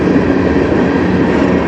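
A short CN freight train rolls past on the Strathroy Subdivision near Sarnia, Ontario, its railcars giving a steady, loud, dense rumble with a faint clickety-clack throughout, close by and with no voices.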